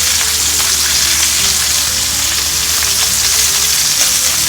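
Steak sizzles and fries steadily in a pan, a loud, continuous crackling hiss with no voices over it.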